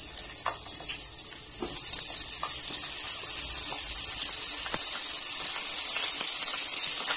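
Cut potatoes frying in hot refined oil in a pan, a steady close sizzling hiss with scattered small pops and crackles throughout.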